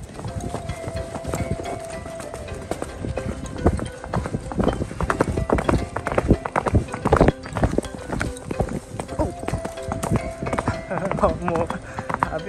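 During a ride at Ogba Zoo in Benin City, a horse's hooves keep up a close, steady clip-clop throughout, while a person talks over the hoofbeats.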